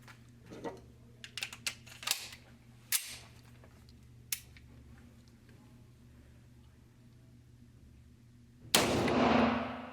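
Sharp pistol shots from a SIG P226 or Beretta M9 at a shooting range, several scattered cracks spread across a quiet stretch with a low hum, ending in a burst of loud rustling noise.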